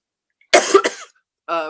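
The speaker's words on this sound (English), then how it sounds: "So sorry, I've got allergies kicking in. It comes through a cough." A couple of close, sharp allergy coughs in quick succession, followed after a short pause by a brief voiced throat sound.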